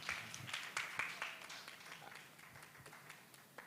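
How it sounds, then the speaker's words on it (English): Scattered applause at a media literacy talk, with light sparse claps rising briefly and thinning out, faint and somewhat distant in a hall. "Okay, the Debunk team. Clap for them, clap for them"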